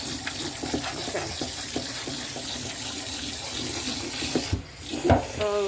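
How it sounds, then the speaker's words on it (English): Boiled brown rice is rinsed under a running kitchen tap, a steady close stream of splashing water with a few louder gushes and brief clinks near the end, and no talking. "You have to wash the rice because it's full with A lot of starch."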